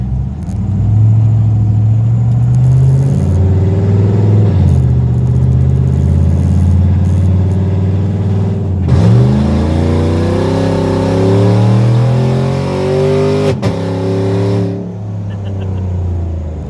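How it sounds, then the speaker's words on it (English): 1996 Impala SS with a Gen V engine swap and its exhaust valves opened, idling with a deep burbling rumble, then revving hard midway with rising engine pitch before settling again, loud and close. "Try to go over here and open up the exhaust."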